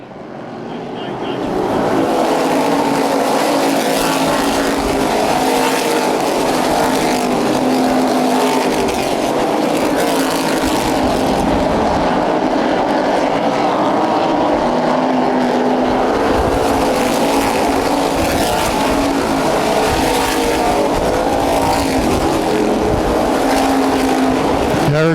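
Street stock race cars roar around Anderson Speedway under green flag racing, with a loud, sustained engine drone from a pack of cars rising after a brief fade-in and continuing under commentary.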